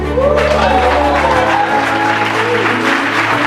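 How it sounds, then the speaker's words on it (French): A room full of people applauds a newly graduated doctor at a doctoral ceremony at UNESCO, a dense, continuous wash of clapping holding steady throughout, with a low sustained tone underneath. "Vos applaudissements sont timides"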